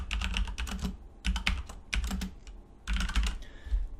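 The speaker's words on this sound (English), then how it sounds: "Get tired of typing this stuff." Someone types on a computer keyboard in short bursts of rapid keystrokes, four clusters separated by brief pauses, close and clear with no talking.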